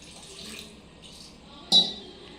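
Water poured into a cooking pot over whole boiled eggs and masala for egg biryani: a steady, moderately quiet liquid rush ending with a sharp clink near the end.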